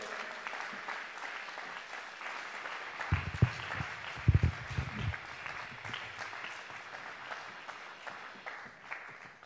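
Applause at the Maketón Maeloc 2020 awards, a crowd clapping at moderate distance, with a few louder thumps and bursts midway before the clapping gradually thins and fades.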